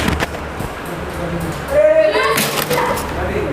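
A sharp clatter of a small object hitting a hard surface, with busy background noise and voices around it.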